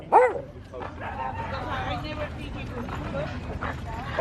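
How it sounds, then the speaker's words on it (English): Small dogs bark and yip in short bursts, with an early sharp yip and whimpering under steady overlapping human chatter nearby. "leave the little dog alone"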